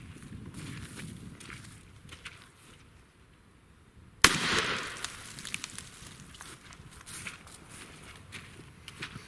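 A BB gun fires a single sharp, loud crack at a bottle target outdoors midway through, set against faint breezy rustling and scattered small knocks.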